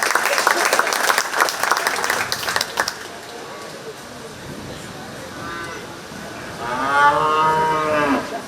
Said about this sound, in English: Let's give these exhibitors a nice round of applause.